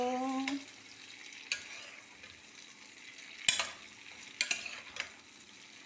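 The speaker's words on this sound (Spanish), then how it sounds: "Luego vamos a asar también zanahorias asaditas, las agregamos." Carrots roast in a pan with a soft, low sizzle, broken by a few sharp utensil clinks and scrapes against the pan, quiet and close with no talking.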